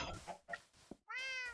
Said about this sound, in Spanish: Oh, el gato al menos me sigue.